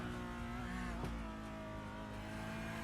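Race car engine in a racing video game, a steady loud drone with strong harmonic engine tones throughout, holding constant pitch with a brief swell near the middle as the car chases down the McDonald's-liveried car.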